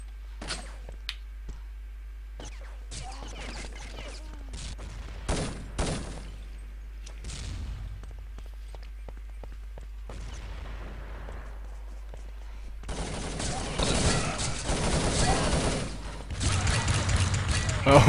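Sporadic shots and sharp impacts in an online shooter match on the Kingdom map, scattered and fairly distant at first, then growing into denser, louder firing toward the end.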